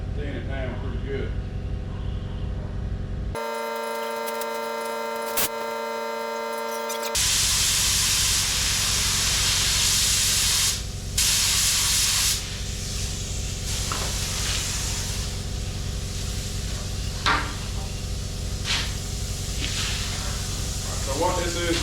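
A cheap Harbor Freight spray gun sprays thinned primer onto truck exhaust stacks in long, steady hissing bursts, with pauses between passes, while someone talks over it.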